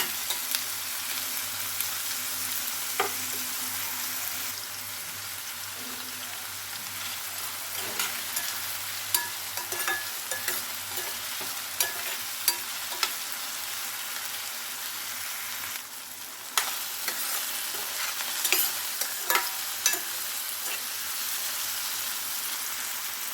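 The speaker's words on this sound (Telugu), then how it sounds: "ఇది కొంచెం మగ్గేదాకా ఉంచుతాం ఇలాగా లైట్గా వేగాలి" Gentle, steady sizzling in a pan as onions and spices for prawn curry fry lightly, punctuated by occasional soft scraping strokes of a stirring spoon, fairly quiet and close with no voices.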